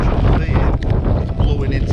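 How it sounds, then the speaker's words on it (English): Rough wind gusts buffet a tent during Storm Isha in snowy, icy conditions, loud close rumbling and flapping bursts throughout a short stretch, with a voice speaking over the roar. "I've had to shut the front door down then because it's rough gusts."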